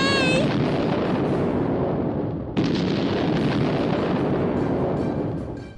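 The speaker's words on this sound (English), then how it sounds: "the volcano exploded with a bang" A cartoon volcano erupts with a big bang: a long, loud rumbling roar broken by a second booming blast midway, with a brief cry at the start.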